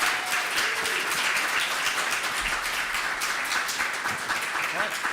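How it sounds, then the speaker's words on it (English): A crowd at the Fusion Meetup bursts into sustained applause for the evening's speakers, a dense, steady wash of many hands clapping at once without pause. "So another round of applause."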